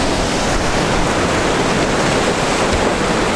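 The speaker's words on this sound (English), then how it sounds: "it's extremely difficult down here to try and get set up and take the shot as the waves are coming in." Ocean waves crash on rocks near Fanad Lighthouse in Donegal, a loud, dense, unbroken roar of surf and spray filling the whole moment, with no voices.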